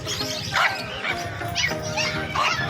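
Dogs yip and bark in short bursts amid a busy, noisy crowd at the Bocaue pet market, with chatter and other animal sounds mixed in.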